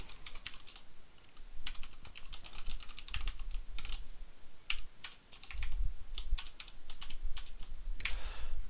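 Fingers type code on a computer keyboard in quick, uneven bursts of close, crisp key clicks and taps, sometimes with short pauses, and no one speaks.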